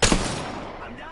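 A single loud, close gunshot fires in the Apex Legends video game, with a sharp onset and then a reverberant tail that fades over about a second.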